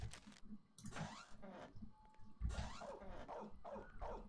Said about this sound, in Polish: Kurde, jeszcze ten pies.